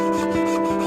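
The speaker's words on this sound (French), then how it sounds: "Alors là, je suis en train de découper le fond parce que c'est la pièce principale." A fine foot-operated saw cuts the back plate of a watch in quick, close rasping strokes, short and alone with no speech.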